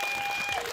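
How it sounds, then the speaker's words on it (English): A live-show audience applauds in a dense, steady wash of clapping that fills the whole short moment. "Please, a round of applause."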